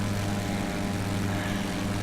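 An aircraft engine drones steadily in flight in the X-Plane flight simulator game, a loud, unbroken propeller hum with a low buzzing tone and no pauses.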